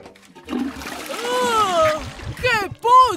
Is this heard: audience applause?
no